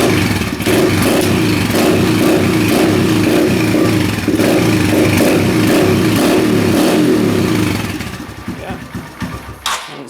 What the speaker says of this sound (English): Give her a bit of choke in there and we'll see if she'll fire up here.